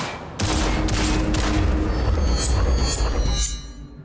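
Rapid automatic gunfire rattles at a shooting range in the Cyberpunk 2077 video game, a loud, dense, continuous burst of shots with a few heavier reports that cuts off near the end.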